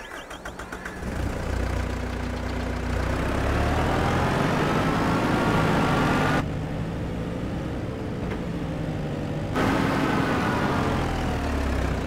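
An Antonio Carraro tractor engine in Farming Simulator 22 runs steadily for several seconds, a loud, even diesel drone whose pitch shifts slightly as it revs, with no talk over it.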